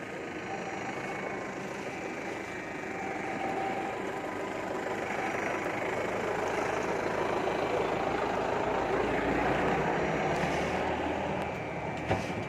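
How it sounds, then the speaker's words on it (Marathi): A heavy vehicle rumbles past outdoors during a public talk, a broad continuous roar that swells and fades slowly, fairly loud with no voice over it. "जाऊ द्या तेवढी गाडी."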